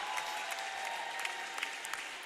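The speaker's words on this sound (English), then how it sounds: "That'll get Maddie Connor a little nice extended round of applause" Steady applause fills a gym during a timeout at a women's college volleyball semifinal match, with a broad wash of clapping hands continuing at an even level, moderately distant and without a break.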